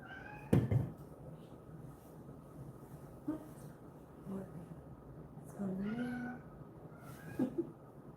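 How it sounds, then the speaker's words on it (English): Cats fighting somewhere nearby, letting out several drawn-out, wavering yowls and a sharp early cry, spread irregularly across the stretch, with people talking faintly underneath. "Cats are fighting."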